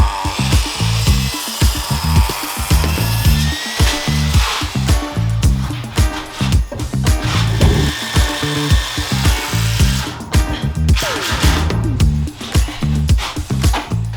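Saw trimming wood in a container workshop, loud and close, with rapid rhythmic cutting strokes running continuously with brief pauses and no talk.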